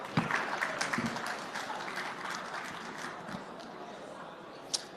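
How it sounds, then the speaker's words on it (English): Applause from an audience at a Dubai trading and Bitcoin expo, a medium round of clapping that starts briskly and tapers off over five seconds, with a sharp clap or knock at the end. "Round of applause, please."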